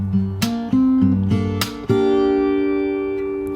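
Fingerstyle acoustic guitar playing a bar from a song, with a percussive slap followed by plucked notes on the open and fretted second string, ringing chords sustaining cleanly and alone before fading out.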